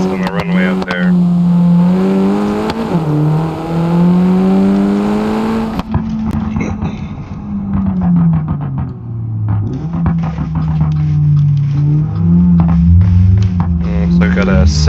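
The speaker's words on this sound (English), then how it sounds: "I'll take this to the airport and we'll do an acceleration test on the runway out there" A 2015-2023 Skoda Kodiaq in the BeamNG video game accelerates hard down an airport runway, its engine droning loud and close and rising through repeated gear shifts, with a person talking over it.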